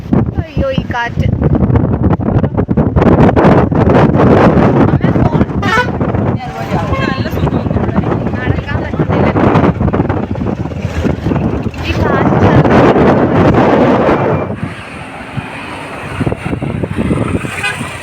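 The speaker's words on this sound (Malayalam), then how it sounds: "അയ്യോ, ഈ കാറ്റ്." Strong gusting wind buffets the microphone with loud, roaring rumble on a bridge near the sea, while a person speaks in bursts over it.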